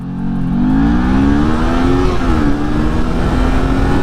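A Kawasaki Z400 400cc motorcycle accelerating hard from a standstill in a 0 to 60 run, its engine note rising steadily through the gears, loud and close throughout with no talking.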